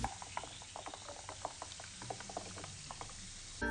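Carbonated drink poured into a glass of ice fizzes and crackles softly in a dense, steady patter of tiny pops, close and quiet, with no voices.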